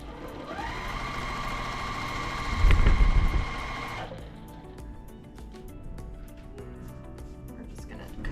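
A sewing machine stitches rows of quilt fabric together, whirring steadily at close range for several seconds before stopping, followed by quieter handling noises and a voice talking.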